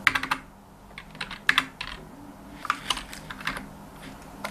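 Keys clatter on a computer keyboard while accounting software is being used, short bursts of quick taps separated by brief pauses, close and fairly quiet with no voices.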